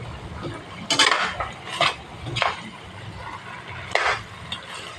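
A utensil scrapes and clinks against a pan while chicken-feet adobo simmers in vinegar sauce, with four or five distinct metallic stirring bursts over a low background bubble, close and moderately loud.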